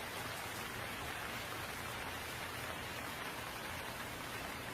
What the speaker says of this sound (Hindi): फिर अगले दिन तक भी बारिश रुकने का नाम नहीं लेती।